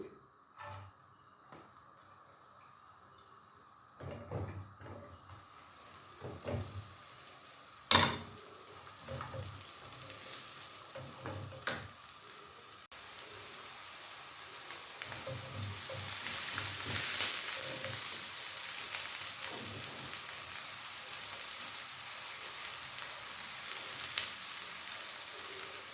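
Onions frying in a pan while cooking a quick noodle dish, a steady soft sizzle running under the whole stretch, with scattered clicks and clatters from stirring and a louder hiss building midway.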